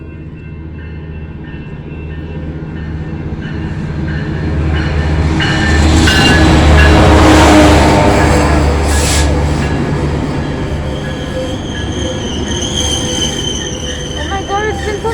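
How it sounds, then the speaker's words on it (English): Metrolink passenger train passing through Santa Ana, its rumble building to a loud peak mid-clip with squealing wheels and rail clatter, then fading as it moves away. "Oh, here comes the train."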